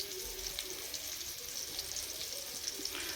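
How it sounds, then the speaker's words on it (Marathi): Fish frying in oil on a flat pan over a wood-fired clay stove, a steady close sizzle with faint crackles, heard alone. "आणि ही मच्छी 5 मिनटं अशा प्रकारे ठेवायची फ्राय होईपर्यंत"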